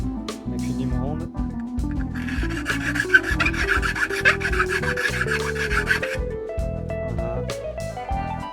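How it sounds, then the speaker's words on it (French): A round file rasps steadily back and forth, enlarging holes in a Kydex sheath. The scraping is loud and close and runs continuously, while someone speaks French over part of it. "Je vais les agrandir un petit peu à la lime."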